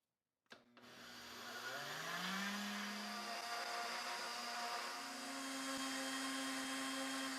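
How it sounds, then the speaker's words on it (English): A blender grinds granulated sugar into powdered sugar, whirring up to speed after a sharp start and holding a loud, steady motor drone with a shifting pitch as the crystals break down. "we are going to put some of my granulated sugar into my blender,"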